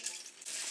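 Dried chilies sizzling in hot oil in a wok, a faint bright crackling hiss that briefly dips and then swells again, close and without voices.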